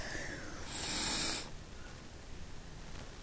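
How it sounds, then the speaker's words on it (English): A person yawns softly, a brief breathy rising exhale lasting about a second, faint and close with no other sound around it. "Sorry, had a yawn."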